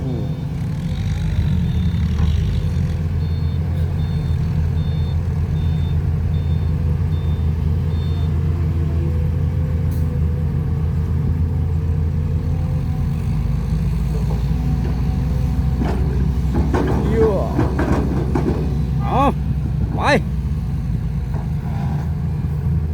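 A Case excavator with a six-cylinder engine working hard on reservoir dredging, with a steady loud diesel rumble throughout and scattered clanks and scrapes of the bucket and metal toward the end.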